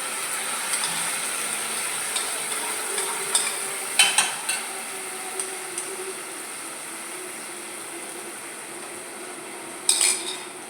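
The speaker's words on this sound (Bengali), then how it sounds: "এইটাকে ফার্স্টে আমি একটু নেড়ে নেব" Mung dal being stirred in a cooking pot, a soft scraping hiss with a few sharper clinks of a utensil against the metal, near and without voices.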